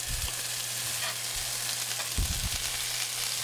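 Garlic sizzling in a hot pan for fish tacos, a loud, steady, close crackling hiss broken by a few soft thumps of stirring.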